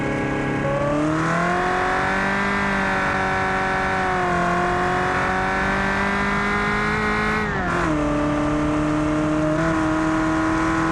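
A car in the Automation game driven at full throttle on a test track gives a steady, loud engine whine that climbs and holds, with pitch dips at gear changes and a brief tire squeal, alone throughout.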